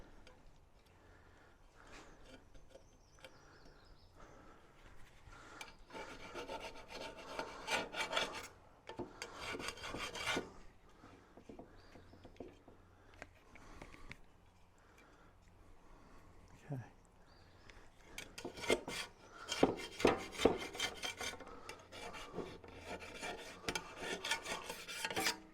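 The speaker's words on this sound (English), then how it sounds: "need to go through and clean all the silicone off of here" Old silicone is scraped off a Yoder YS640 pellet grill in close, uneven bursts of rasping strokes, quiet at first and growing louder and denser toward the end.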